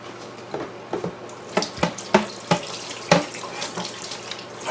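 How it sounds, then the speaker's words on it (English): A kitchen sink tap runs while a blade is rinsed beneath it during onion preparation, giving a steady close water hiss broken by irregular splashes and clinks as the blade moves through the stream. "I just rinse it under the sink."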